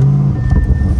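A Lamborghini Urus S engine starting up, a loud close-up burst of mechanical whir and engine rumble that settles into a deep idle, with no talking over it.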